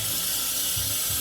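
Cold tap water runs steadily into a sink while soap is rinsed off, a continuous broadband hiss with faint low splashing surges near the end.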